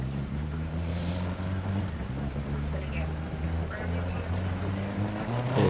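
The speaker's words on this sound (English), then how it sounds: "you can see the wheel wobbling. I got a flat." A car with a flat right tire in a video game, its engine droning steadily with a low rumble and wobbling, uneven road noise throughout, close and continuous.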